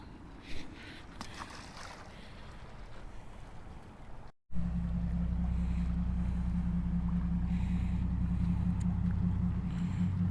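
A steady low motor drone from a passing boat, close by and continuous, after a quieter stretch of wind and ocean water noise off Ocean City, Maryland.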